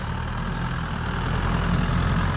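A tractor engine runs steadily in a farm field being cleared, a constant low diesel rumble that stays loud and close throughout, with no voices.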